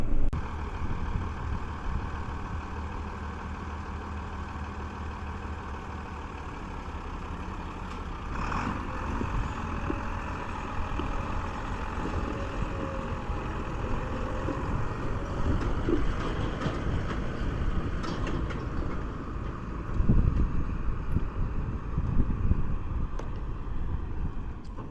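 Vehicle engine rumbles steadily at a low idle outdoors while being hooked up to a Keltec bale chaser, with wind buffeting the microphone and brief louder surges throughout.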